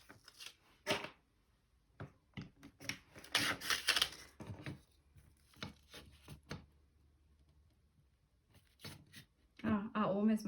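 Paper is being trimmed to size for making pockets, heard as brief sliding and slicing strokes in short bursts between pauses, close and fairly quiet, with a person talking in between.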